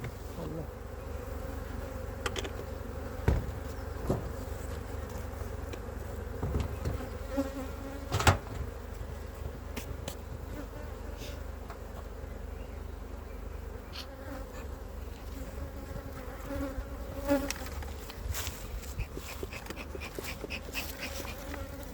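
Honey bees buzz steadily around a hive that has just been split, a dense continuous drone close by with occasional faint knocks and clicks in the background.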